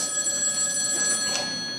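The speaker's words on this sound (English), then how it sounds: "the phone starts ringing" A telephone ringing on a musical theater stage, an electronic ring holding steadily for about two seconds, moderately loud and alone with no talk.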